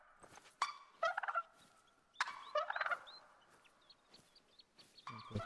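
A wild turkey in the hunting game The Hunter: Call of the Wild gobbles in several loud, rattling bursts with quieter gaps between them, close by and with no talk over it.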